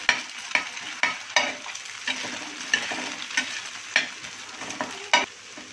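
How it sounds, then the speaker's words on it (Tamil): Beaten eggs being stirred and frying in a pan for roadside-style egg kothu parotta, with repeated sharp scraping strokes of the stirring tool over a steady close sizzle, no talking. "முட்டையை நல்லா உடச்சி ஊற்றி நல்லா கலரிக்கோங்க."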